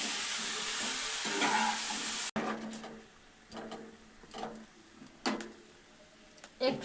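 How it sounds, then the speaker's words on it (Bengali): Mango chutney cooks in a pan, a loud sizzle cutting off abruptly before scattered scraping and clinking strokes of stirring follow, fairly close, with a voice talking quietly in between. "আমটাকে এরকম করে একটু নাড়াচাড়া করতে হবে, একটু সেদ্ধ হয়ে আসবে"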